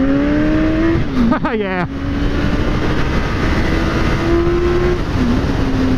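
A Suzuki GSX-S1000 motorcycle engine howls as it accelerates, its pitch climbing through the gears, then dipping sharply at a quick shift before rising again, loud and near, with wind roar and a brief spoken word.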